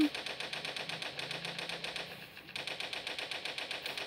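A boss in the Toilet Monster game fires a yellow laser, heard as fast, steady rapid-fire electronic pulses like a machine gun, faint and mechanical, with a brief pause midway before the stream resumes.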